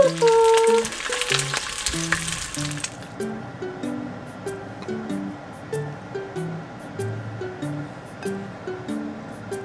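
Herring fries in a pan for a herring and pumpkin pie, a busy sizzle that is loud at first then settles into a softer steady crackle under gentle background music.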